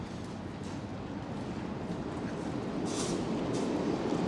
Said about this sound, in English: As we hear the R train or the N train or the Q train pass beneath me.